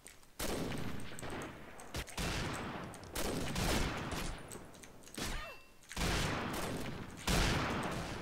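Rifle fire from an FRF2 in the Combat Arms shooter game: several loud bursts of shots with echoing booms, spaced unevenly across the stretch and heard up close without talk.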